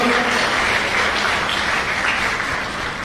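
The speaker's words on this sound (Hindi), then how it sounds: "तो एक बार सब लोग अपने लिए जोरदार तालियां बजाकर स्वागत करेंगे" A school event audience breaks into loud, sustained applause, a dense continuous wash of clapping that fades slightly toward the end.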